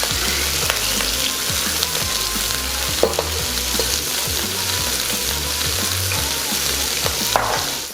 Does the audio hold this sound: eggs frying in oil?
yes